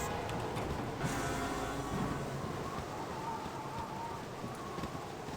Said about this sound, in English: Had to start raining. Just had to start raining.